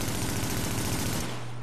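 Rapid automatic gunfire from a weapon in the video game The Division, a loud, continuous burst of closely spaced shots that cuts off abruptly near the end.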